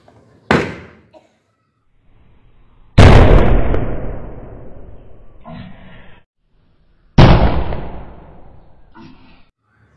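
Calcium carbide gas collected in a bottle is ignited with a gas lighter spark, making a rocket-style bang: a small pop, then two loud sharp blasts with decaying rushing tails, separated by quiet pauses.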